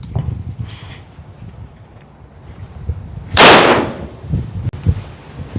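A single sharp, loud shot rings out near the middle from a BinTac T50 semi-auto .50 caliber airgun loaded with six rounds, which then fails to cycle; quiet handling noise surrounds it.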